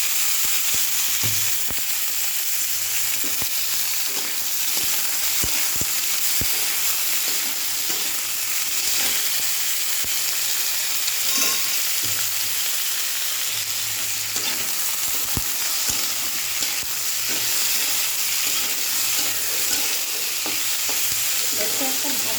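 Sliced onion and potato fry lightly in a pan over spices, a continuous crackling sizzle with scattered sharp pops and stirring scrapes.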